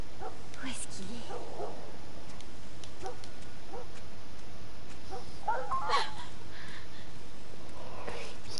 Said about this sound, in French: C'est un chien. C'était un chien.